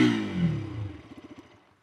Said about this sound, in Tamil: எக்ஸாஸ்ட் நோட் கேட்போம்.